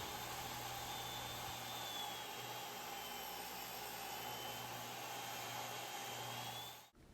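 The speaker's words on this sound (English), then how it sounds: "We're going to cut these boards into 1-inch strips, get them ready to be glued together." A table saw runs while ripping wooden boards into 1-inch strips for a glued-up dough board. A steady, fairly quiet motor drone with a faint high whine continues unbroken, then cuts off at the end.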